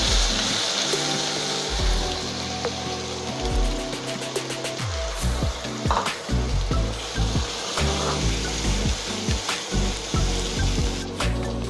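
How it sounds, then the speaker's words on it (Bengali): Spoon scraping and stirring an onion, tomato, ginger and garlic paste with spices in a pan for paneer masala, a steady run of close, rhythmic wooden rubs and scrapes with a faint sizzle beneath, no talking. "মশলার সাথে পেস্টটা ভালো করে মিক্স করে নিতে হবে"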